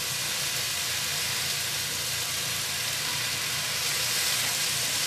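Greens wilting in a hot pan while being stirred with tongs, giving a steady, dense sizzle and hiss that holds evenly throughout with no talking.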